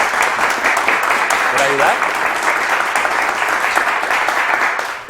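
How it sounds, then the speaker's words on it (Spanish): Loud audience applause for baristas at a specialty coffee day event in Bogotá, a dense steady clapping that fills the whole stretch, with a voice speaking briefly over it. "hacemos un aplauso pero fuerte porque están allá lejos"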